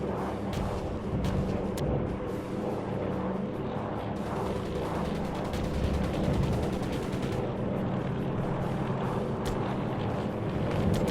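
Heavy anti-aircraft fire booms in the video game Air Conflicts Pacific Carriers: continuous rumbling bursts of flak and gunfire with sharp cracks scattered through, loud and unbroken for the whole stretch.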